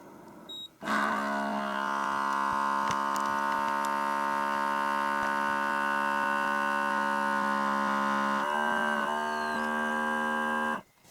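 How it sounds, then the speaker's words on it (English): An Outin Nano portable electric espresso machine building its 20-bar pressure runs as a loud, steady droning hum with strong tonal harmonics for about ten seconds, briefly shifting pitch near the end before cutting off; no talking. "The last step though, adding the pressure, will be a little bit louder."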